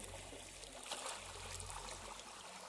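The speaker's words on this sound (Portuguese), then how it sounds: "E agora escuta o barulho da água aí junto com o geodo, ó." Water trickles and splashes continuously around a geode in a natural outdoor setting, a steady close babble of flowing water with no talk.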